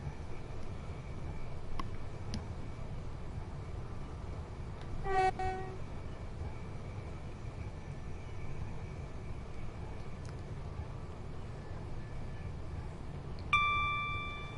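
Train running in Train Sim World 4 on a Southeastern high-speed service from Ramsgate and Dover Priory to London Victoria: a steady low rolling rumble with brief dinging tones and a short horn toot, no talking.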